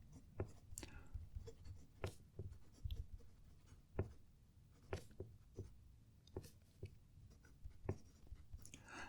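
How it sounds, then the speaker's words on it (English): Double broad nib fountain pen writing on paper with Diamine ink, soft close scratching strokes in short bursts, quiet and mostly alone with faint breathy whispering now and then. "I need to shut up when I'm writing, so you can hopefully hear the pen write"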